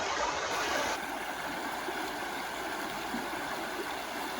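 A river flowing through its channel on a geology field stop, a steady broadband rush of moving water that holds close and even throughout, with no voices.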